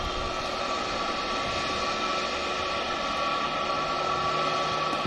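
Aircraft touching down on a runway at Manchester Airport, a steady broad roar of jet noise heard from a distance with no talking.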